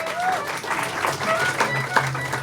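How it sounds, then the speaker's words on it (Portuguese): A comedy audience claps and cheers for a comedian, a lively burst of applause with crowd noise and a few whistles, while a voice speaks over it. "Mais palmas pro Tortorelli"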